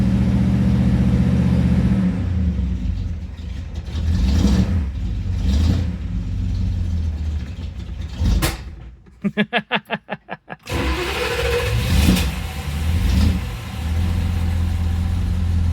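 A 1967 Dodge Coronet 440 convertible with a 318 automatic runs at low RPM, its idle rough and uneven, then sputtering into a rapid pulsing stumble before catching and settling back to a steady run.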